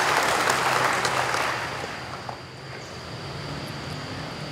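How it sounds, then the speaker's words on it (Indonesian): A crowd at a morning assembly and opening ceremony for cadets applauds in a broad, steady wash of clapping that fades after about two seconds, leaving a low, open-air hum. "Tepuk tangan untuk kita semua."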